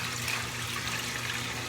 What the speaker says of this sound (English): in this pot, I have my chicken broth. So, what I'm going to do is I'm going to take it and I'm going to pour it in this bowl.